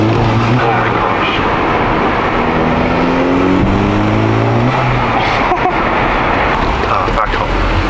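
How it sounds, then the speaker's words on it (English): A Volkswagen GTI with a full-bolt-on turbo engine roars steadily up close, with a rising whine of the turbo spooling layered over the drone. "Turbo noises."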